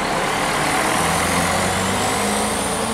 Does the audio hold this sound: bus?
yes